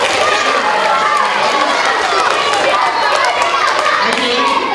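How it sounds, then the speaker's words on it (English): Children in a school audience clap and cheer for a volunteer at Officer Phil's presentation at JFK School, dense close applause mixed with excited chatter that stays loud from start to finish. "How about a nice round of applause for my friend?"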